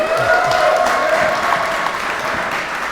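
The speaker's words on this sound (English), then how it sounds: "let's hold for a round of applause" A live audience at a giant robot duel applauds the mech pilots, a loud, continuous burst of close clapping and crowd noise throughout.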